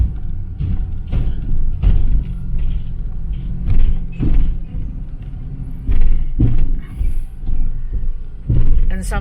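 A car drives along a rural road in the Philippines past an old Japanese bridge, giving a loud, close engine rumble with repeated thumps and bumps from the road surface.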